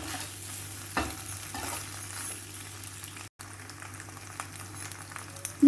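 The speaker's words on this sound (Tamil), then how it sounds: "பாஸ்தாவோட எல்லா பக்கமும் ஸ்ப்ரெட் ஆகிற மாதிரி நல்லா கிண்டி கொடுங்க." A spoon stirs cooked pasta through masala in a pan, giving quiet scraping and soft sizzling with an occasional light clink, all fairly faint and without speech.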